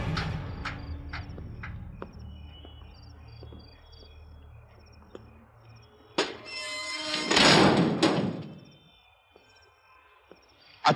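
A building door is pushed shut and locked: a few dull thuds and a louder heavy clunk stand out over a steady chorus of chirping crickets, ending with a sharp knock.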